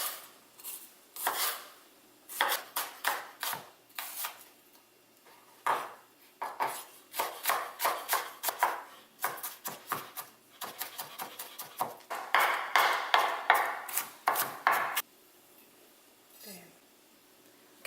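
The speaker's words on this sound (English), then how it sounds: "Next, I need 3 tablespoons of freshly diced shallots. And for this, you just want to finely chop it." A kitchen knife finely chops shallots on a cutting board in quick bursts of sharp, close taps, with short pauses between runs of rapid strokes and a brief quiet stretch near the end.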